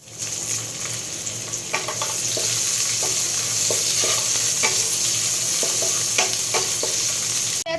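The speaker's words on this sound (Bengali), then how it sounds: "আমার টমেটোটা কুক হয়ে গেছে" Tomatoes cooking with fried onions in a pan for a bata fish curry: a constant loud sizzle with repeated spatula scrapes and knocks, close to the pan.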